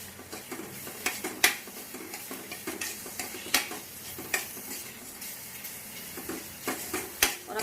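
A spoon stirs green food colouring into a thick sweet in a kadhai, with repeated scraping and sharp metallic clinks of utensil on pan at an irregular rhythm, close and fairly quiet.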